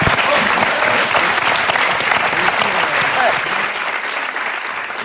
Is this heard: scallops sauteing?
no